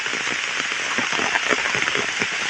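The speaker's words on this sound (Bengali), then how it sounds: "কী পরিমাণে বৃষ্টি হচ্ছে" Heavy rain pours down in a loud, dense, continuous patter on surfaces, steady from start to finish with no voices.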